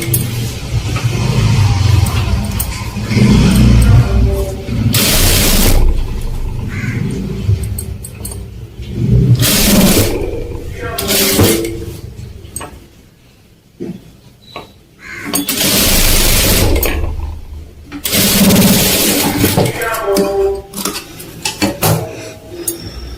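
A sewing machine stitches a blouse in several loud bursts of motor whir and needle rattle, each lasting a second or two, separated by quieter pauses of handling.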